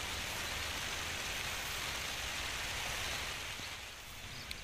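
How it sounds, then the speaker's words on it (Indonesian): Steady rain falls through a mid-afternoon shower over a chili pepper field, a dense, even hiss of drops that holds at constant loudness throughout, with no voices. "ini malah sudah mulai turun hujan lagi nih"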